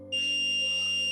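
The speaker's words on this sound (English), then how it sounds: "hear the buzzer alarm here" A buzzer on a NodeMCU fire alarm sounds when its flame sensor detects fire, giving a loud, steady electronic tone that starts abruptly and holds without a break.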